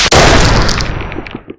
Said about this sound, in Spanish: La tierra tembló con un segundo y sonoro disparo